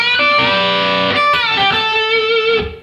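Overdriven electric guitar in the solo, sounding a pre-bent note and releasing it so the pitch slides downward, followed by a few more picked notes that ring and fade, with no voices.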